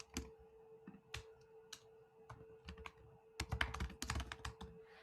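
Code typed on a computer keyboard while programming pendulum position control in robot simulation software: bursts of close, crisp key clicks with short pauses between, growing into a dense rapid flurry near the end, with no talking.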